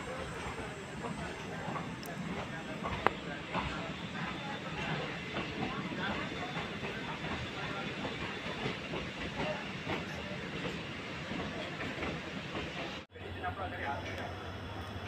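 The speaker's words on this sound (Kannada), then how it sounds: "ಈ train Harihara to Hosapete daily passenger train ಇದು." Harihar–Hospete daily passenger train rolling past a waiting train in a mining area, a steady loud rumble and hiss of rail wagons with faint clickety-clack throughout, ending abruptly near the close.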